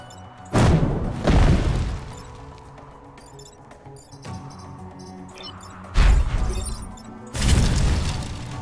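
Mortar shots and explosions in the tactics video game Into the Breach, with four heavy booming impacts landing about one to two seconds apart over a low, steady game background.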